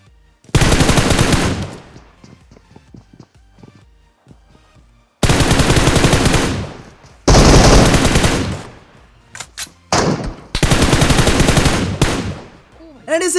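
M4 rifle gunfire in a PUBG final-circle fight, long loud bursts of continuous automatic fire with short gaps between them, plus a few scattered single shots and faint game sounds in the pauses.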